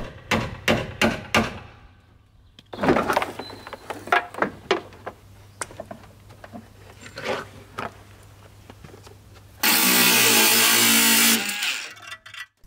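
Sheet metal on a Suzuki Cappuccino body is cut with tools, giving sharp metallic knocks and scraping bursts, and ends in a loud, steady power-tool whine near the close.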